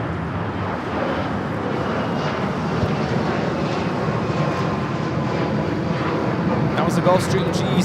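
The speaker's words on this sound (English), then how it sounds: "That was the Gulfstream G650." A Gulfstream G650 business jet takes off at Los Angeles airport, a steady broad engine roar that holds at a constant level from a moderate distance throughout, with no talk.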